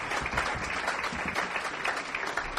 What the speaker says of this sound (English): Another big round of applause for Jano Lieber